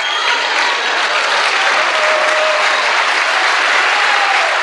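Church congregation clapping hands together, a loud, dense and continuous wash of applause that fills the room without pause.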